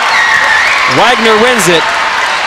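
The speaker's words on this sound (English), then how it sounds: "Standing ovation from this crowd at the Sparrow Sports Center." Dense, steady applause from a standing crowd at the Sparrow Sports Center during a Wagner versus Saint Francis (PA) men's college basketball game, filling the space under an excited commentator's voice.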